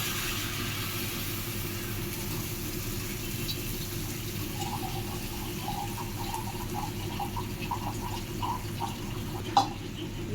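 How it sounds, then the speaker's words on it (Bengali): Water is poured into a pan of cooked-down masala for a koi fish curry with taro, producing a faint trickling and bubbling in the middle stretch over a constant low background hum. "মশলাটা কষানো হয়ে গেছে, এখন জল দিয়ে দিব।"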